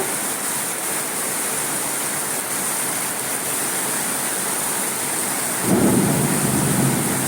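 Heavy pre-monsoon Kalbaishakhi storm rain pours steadily with thunder rolling in the background, building to a loud, deep rumbling burst near the end.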